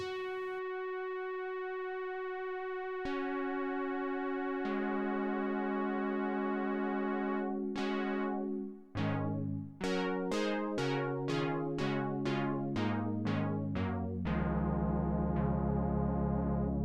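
A Sequential Prophet 5 synthesizer oscillator holds a buzzy tone whose timbre shifts and sweeps as the pulse width is modulated, with stepped notes toward the end.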